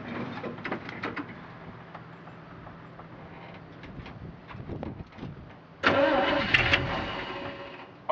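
A 1968 Chevrolet C-60 farm truck's starter cranks the engine in repeated bursts, then the engine catches and runs louder for the last couple of seconds, with birds faintly audible outdoors.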